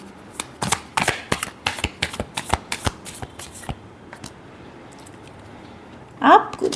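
A deck of tarot cards is shuffled up close in a rapid run of crisp, flapping riffles for about four seconds, then it goes quiet before a short voice near the end.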